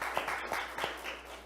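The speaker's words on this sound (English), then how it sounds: "Everybody give him a round of applause." A small family group gives a faint round of applause, a few distinct claps standing out from soft scattered clapping.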